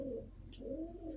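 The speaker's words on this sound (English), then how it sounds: "I don't know if you can hear it. There's a pigeon in the background." A pigeon coos softly in the background, two low throaty coos in a quiet room.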